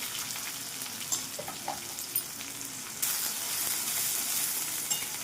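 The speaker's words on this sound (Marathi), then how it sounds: "कांदा गुलाबी होईपर्यंत फ्राय करणार आहे" Chopped onion and garlic frying in oil with curry leaves, cumin and mustard seeds, a light crackling sizzle with small pops, growing to a fuller steady hiss midway, close and without talk.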